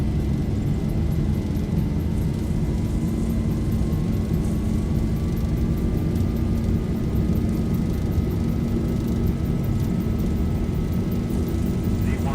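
Boeing 737-800 jet engines spooling on takeoff roll in the X-Plane 11 flight simulator: a constant loud rumbling roar with rising whining tones sweeping upward, continuous and close.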